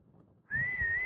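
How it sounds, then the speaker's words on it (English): Someone gives one clear, sustained whistle on a single steady pitch, close and fairly loud, after a moment of quiet background at a high mountain spot in Ladakh. "Can you whistle once more?"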